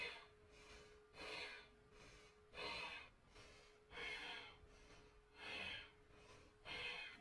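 Forceful yoga bellows breathing: about seven sharp, rhythmic exhales through the nose, each a loud airy burst with short quiet gaps between them, close to the microphone.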